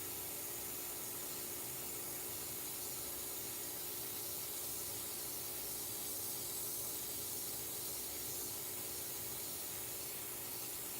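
An airbrush sprays paint onto a dog portrait with a steady, even hiss that holds unbroken throughout, quiet and close, with a faint hum beneath.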